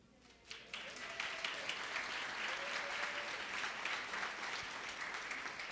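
An audience at a Brooklyn arts grant ceremony breaks into applause, the clapping swelling after a brief quiet start and holding as a steady, moderately distant patter.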